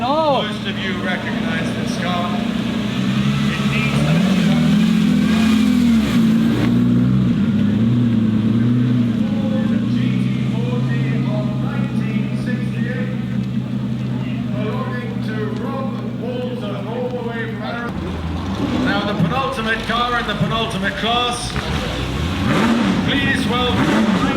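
Engine of a 1976 Porsche 936 race car rumbling and revving during a parade at the Concorso d'Eleganza Villa d'Este, loud and sustained, with an announcer talking over it throughout.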